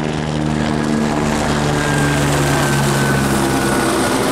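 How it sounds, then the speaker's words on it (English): A helicopter flies over a backyard vegetable garden, its loud rotor thrum and engine drone steady and close throughout, with no one speaking. "So, helicopters."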